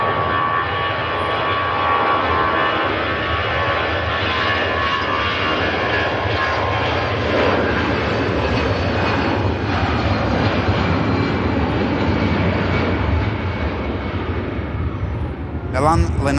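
An ITA Airways aircraft operating for EasyJet and bound for Milan Linate gives a sustained jet engine roar at Manchester Airport, steady and fairly loud, with someone talking over it.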